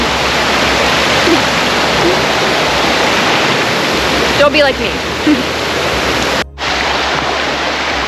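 River water rushing over rocks at a trail crossing on the Huntington Ravine Trail in the White Mountains, a loud steady broadband roar filling the scene, with a brief spoken remark midway.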